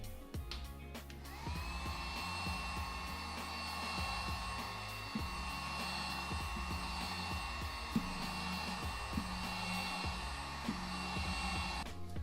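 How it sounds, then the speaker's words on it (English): A heat gun blows steadily while warming the molding on a truck door, a continuous whirring hiss with a faint whine, accompanied by soft thumps and handling noises underneath. "I'm going to take a heat gun real gently"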